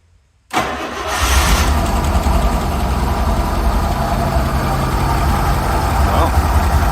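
A Rolls Royce Silver Shadow V8 cranks and fires after a brief silence, then settles into a loud, steady idle, its engine recently worked on after running on fewer than eight cylinders.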